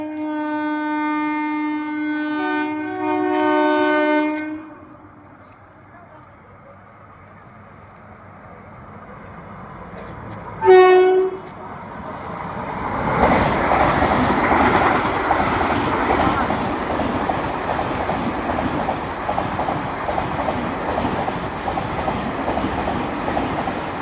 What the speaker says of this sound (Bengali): দেখুন বন্ধুরা, আপনারা দেখতে পাচ্ছেন বন্দে ভারত এক্সপ্রেস ঢুকছে।